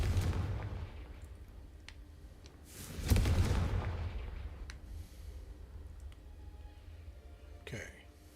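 A fire spell from Hogwarts Legacy bursts in a loud explosive boom midway, with a rumbling tail that fades over the following seconds, amid quieter game ambience and a few short clicks.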